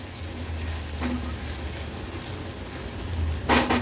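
Onion with crushed ginger-garlic and chopped green chilli sizzles steadily in a pan for a Maharashtrian veg thali, a constant close frying hiss with a brief stir clatter near the end.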